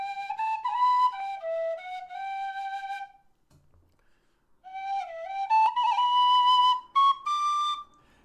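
A low D Irish tin whistle plays a sustained, breathy melody of held notes with slides between pitches, stopping for a pause of about a second and a half before resuming, clear and close with no talking.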